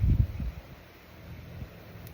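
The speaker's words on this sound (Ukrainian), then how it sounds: "Вітер сильний." Low rumbling gusts of wind buffet the microphone, strongest at the start, then easing into a steady breezy roar.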